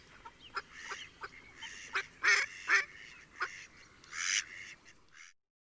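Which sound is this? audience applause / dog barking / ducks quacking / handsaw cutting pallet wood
ducks quacking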